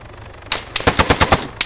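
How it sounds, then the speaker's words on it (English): Automatic gunfire in the military shooter game ArmA 3: a loud single shot, then a rapid close burst of about seven evenly spaced rounds, and one last shot after a short gap. "I'm getting shot from somewhere."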